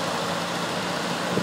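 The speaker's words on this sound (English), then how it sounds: "That's a little 4-cylinder engine, twin SU carbs." Small four-cylinder engine of a Rover 2000TC fitted with twin SU carburettors, idling with a steady, even low rumble close by and no talk over it.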